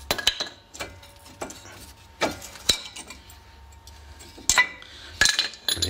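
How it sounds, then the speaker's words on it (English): Metal brake pads are lifted out of a brake caliper on a Vauxhall/Opel front brake, giving a series of sharp metallic clinks and rattles spaced irregularly, close and fairly loud, with no talking. "So next you want to take the brake pads out, so just lift them out"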